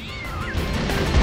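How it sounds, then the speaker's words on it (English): A cat in the vehicular combat video game Twisted Metal: Small Brawl yowls in a short, rising and falling meow as a lawnmower hits it, loud and close, with a low rumble building underneath. "Oh no, it ran into the cat!"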